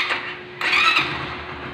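A Yamaha XTZ 125 motorcycle engine cranks and catches, with a brief starter whine and a rise into a steady idle close by, alone without talk.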